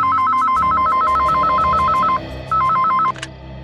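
A telephone ringing loudly and close, an electronic warbling trill that repeats in two bursts with a short gap, then cuts off with a brief click.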